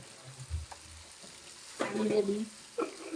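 A steady frying sizzle as duck meat is stirred and scraped in a pan, close by, with brief clatters of a utensil partway through.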